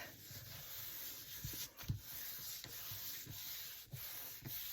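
Paper being rubbed around the edge of a craft journal cover, a faint repeated soft rubbing and scuffing at close range with a steady background hiss.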